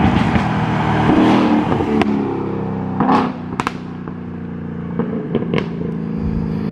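A 2018-2021 Ford Mustang GT with an X-pipe exhaust revs and crackles, sharp pops and bangs breaking over the deep engine drone, loud and close, with one spoken word briefly.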